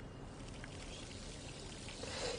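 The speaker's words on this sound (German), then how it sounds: "Warum kann ich Wasserhähne aufdrehen?" A water tap runs at a jacuzzi in the video game The Darkness II, making a steady, broad rushing pour that stays even throughout at a moderate level.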